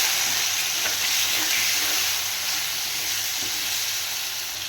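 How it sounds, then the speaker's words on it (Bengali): Vegetables with turmeric stirred and frying in a pan for a potato, pumpkin and drumstick curry, giving a steady close sizzle with soft scraping strokes and no talk. "আর দেবো হলুদ গুঁড়ো, আবারও কিছুক্ষণ একটু নাড়াচাড়া দিয়ে নেব।"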